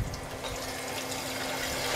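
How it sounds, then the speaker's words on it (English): Water droplets bursting and crackling inside a hot waste-oil distillation reactor, a continuous sizzling, bubbling hiss with a steady low hum underneath, close and fairly loud. "Now you can hear there's some water droplet explosion"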